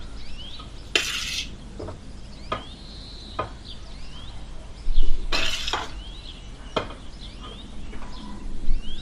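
A metal spoon scrapes and taps against a pot while spreading a layer of rice for egg dum biryani, giving several sharp clinks and scrapes spaced unevenly over a low background hum.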